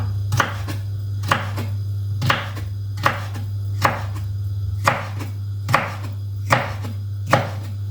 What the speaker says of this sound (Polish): kroimy w paseczki